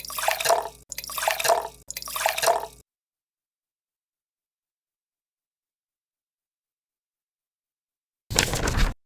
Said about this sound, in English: So they added 3 cups of water and they started to stir.